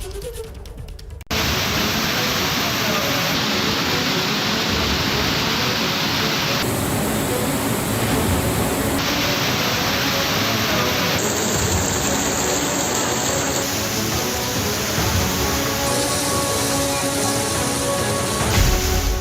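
Loud, steady roar of rushing flood water in Madhya Pradesh, a dense continuous wash of noise that barely changes in level throughout.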